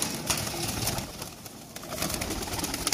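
A Kasuri pigeon coos softly in a continuous, slightly noisy outdoor setting, its low murmuring calls repeating through the short stretch without talk.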